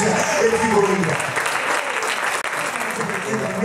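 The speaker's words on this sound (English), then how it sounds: "Somebody clap your hands and praise Him if you believe it." A church congregation claps steadily at a Pentecostal service, loud dense applause filling the room throughout, with a crowd of voices mixed in.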